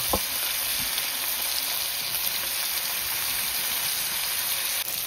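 Onions with potatoes fry in a pan for a pork dish, giving a loud, continuous close-up sizzle with a few faint clicks and no talking.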